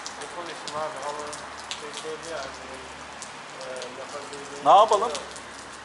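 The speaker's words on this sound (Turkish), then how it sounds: "bu yağmur dinecek gibi durmuyor zaten" Steady rain falls outside during a rainy tour day at Ilıca, Çeşme, a soft continuous patter running under people talking, with a louder burst of speech near the end.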